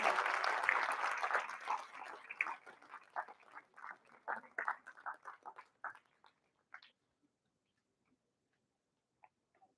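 An audience applauds a participant at the Damodarshree National Award for Academic Excellence ceremony. Dense clapping starts strong, then thins into scattered individual claps and fades to near silence after about seven seconds, leaving only a couple of faint late claps.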